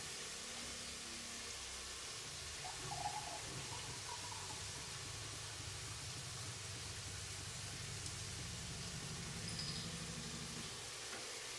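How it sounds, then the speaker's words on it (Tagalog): Water pours into a cooking pot for prawn sinigang, a steady, quiet splashing stream with a faint sizzle beneath it, continuous and without speech. "Tsaka natin siya lalagyan ng tubig"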